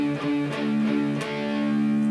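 Distorted electric guitar plays a riff, sustained chords with a few sharp picked attacks, loud and alone with no voice.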